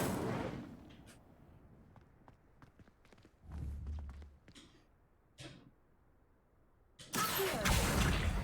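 A fire spell cast in Hogwarts Legacy, heard as a sudden loud burst of roaring, crackling flame near the end, after scattered thumps, footsteps and low rumbles.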